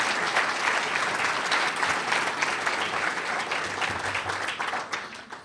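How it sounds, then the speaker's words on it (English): A banquet hall audience at a restaurant week awards banquet applauds the hotel staff with steady, full clapping from many hands, holding a constant level until it tapers slightly at the end. "Let's give them a round of applause."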